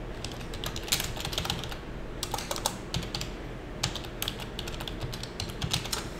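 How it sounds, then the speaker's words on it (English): Fingers typing on a computer keyboard at a desk in quick bursts of close, crisp key clicks separated by short pauses, with no voice. "I just typed an S and hit tab for the shortcut on that"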